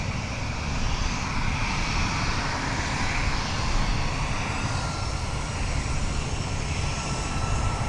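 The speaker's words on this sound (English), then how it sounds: "Here is United Express, operated by Mesa Airlines. It's Embraer 175LR headed to Houston." United Express Embraer 175LR operated by Mesa Airlines taking off from Minneapolis airport, a loud continuous jet engine roar holding steady throughout.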